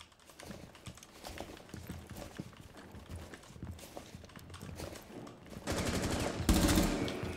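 Rapid bursts of MP5 submachine gun fire in Rainbow Six Siege gameplay, dense clattering volleys under a busy game mix that swell loudest near the end.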